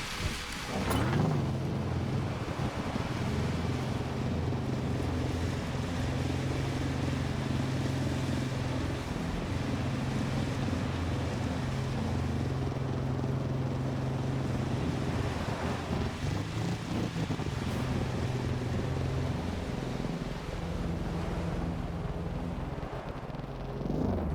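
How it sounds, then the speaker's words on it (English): Strong, steady wind roars in the video game Sable, full and continuous with a low rumble. It holds at the same level the whole time, with no talk. "So windy."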